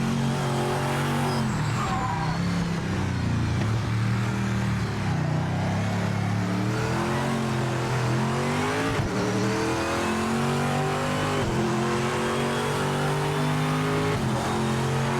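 A race car engine in Project Motor Racing roars loud and continuous, its pitch climbing and dropping through gear changes as the car brakes and accelerates, with no pauses throughout.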